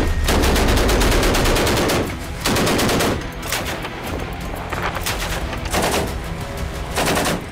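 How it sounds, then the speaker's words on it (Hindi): Russian naval cannon and guns fire live at sea in loud, rapid bursts of gunfire, several long volleys separated by brief pauses, with no voices. "तोप और गन से लाइव फायरिंग हो रही है।"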